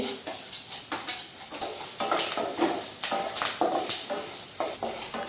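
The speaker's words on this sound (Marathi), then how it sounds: "आता आपली धणे डाळ अशी चांगली लाल फ्राय करून घ्यायची" Chana dal and coriander seeds frying in a pan over low gas, a continuous dry sizzle with frequent rattling scrapes of a spoon stirring against the metal, close and busy, no voices.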